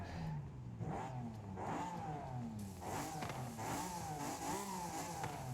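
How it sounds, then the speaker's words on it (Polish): A 1992 Honda NSX-R in the video game Forza Horizon 5, driven in drift style: its engine revs and rises repeatedly, with the exhaust crackling and popping, loud and steady throughout. "Ale strzela nam ten wydech."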